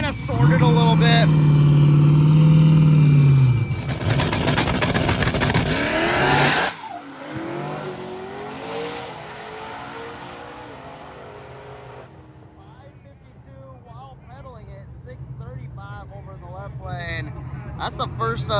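Honda S2000 race car launching at a street drag race, a loud close engine roar with tire squeal for several seconds before cutting off, then fading crowd and track ambience with a commentator talking.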